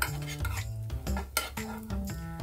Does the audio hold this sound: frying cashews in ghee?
yes